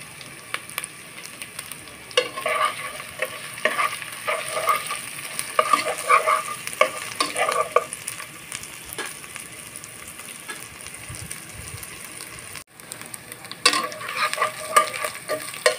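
Potatoes and masala are sautéed in a pan, with repeated scraping stirs over a steady sizzle. The stirring comes in bursts, pauses briefly, then resumes close and clear.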